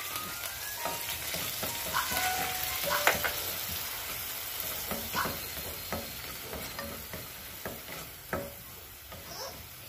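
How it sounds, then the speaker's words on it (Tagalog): Onion sizzles and sautés in hot oil in a pan, a steady soft crackle broken by scattered stirring scrapes and clicks, close and moderately quiet, with no talking. "yun na ngayon yung magiging oil natin sa pagigisa ng ating sibuyas, bawang at kamatis"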